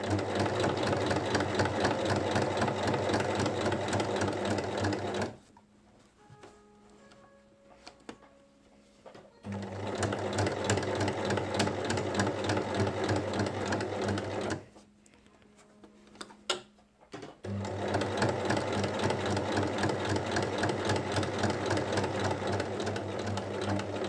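A sewing machine stitches a strap of a lined tote bag 1 mm from its edge, running in steady bursts of rapid mechanical stitching with two short pauses where faint clicks and handling sounds are heard.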